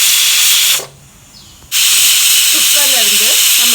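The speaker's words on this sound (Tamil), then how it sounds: "விசில் வந்துடுச்சு" A pressure cooker cooking mutton releases a loud, steady rush of steam hiss that cuts out briefly in the middle, then resumes strongly, with a faint voice near the end.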